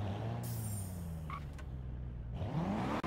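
A BMW car engine in the racing game Forza Horizon 3 idles and then revs up after stalling, a steady low drone whose pitch climbs sharply near the end.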